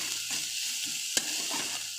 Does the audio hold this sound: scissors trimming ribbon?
no